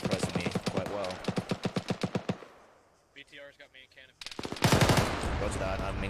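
Rapid bursts of automatic cannon fire from a BTR armored vehicle in the military shooter game Squad hammer away loudly, with a brief lull of scattered quieter shots before another dense, sustained volley.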